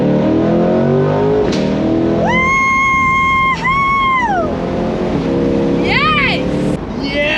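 A Chevrolet Corvette Stingray accelerates hard at full throttle, its engine note climbing through gears in rising sweeps with brief dips at shifts, loud and close inside the car, with excited voices talking over it.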